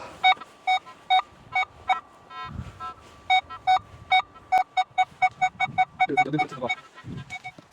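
A metal detector sweeping a field sends out a rapid series of sharp, evenly spaced electronic beeps, loud and close, with a brief rustle of digging and a soft voice near the end.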